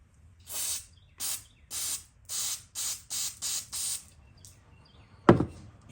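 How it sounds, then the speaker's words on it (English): Eight short, sharp hissing bursts of carburetor cleaner spray into a 2002 Craftsman 21-inch mulcher's 6.5 Quantum engine, evenly paced and close by, followed by a single sharp clunk. "Blast some carburetor cleaner through there."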